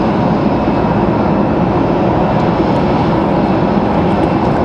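A FedEx cargo plane approaching an airport in the distance gives a steady, broad jet-engine roar. The drone holds evenly throughout with no talk over it.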